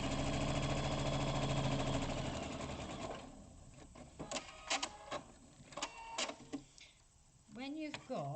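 A sewing machine runs steadily for about three seconds, stitching fabric pieces right sides together in a straight seam for a rice-bag-style gift bag, then stops while a voice talks over quieter handling sounds.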